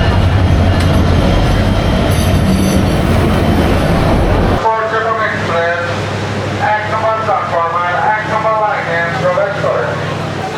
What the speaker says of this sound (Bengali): অলরেডি 1 নম্বর প্ল্যাটফর্মে আমাদের ট্রেন চলে এসেছে।